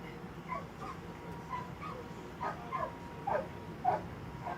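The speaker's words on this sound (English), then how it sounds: "You know whose dog that is at all?" A stray dog outdoors whimpers and gives short yips in a series of brief, moderately close bursts over steady background noise.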